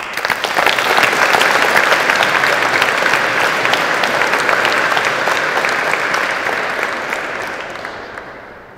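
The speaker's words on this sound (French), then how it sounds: "Sous un tonnerre d'applaudissements, je vous prie d'accueillir l'avocat de l'accusation, Maître Francis Triboulet." A theatre audience gives a thunderous welcome: dense, loud clapping swells quickly, holds steady for several seconds, then gradually fades.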